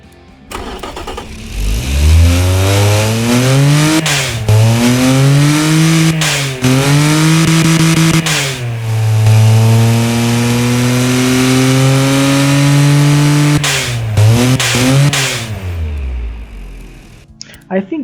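A Daewoo Tico 0.8L three-cylinder engine with no muffler in the Automation game starts and revs repeatedly, loud buzzy tones rising and falling, holding high revs before dropping back to idle and shutting off.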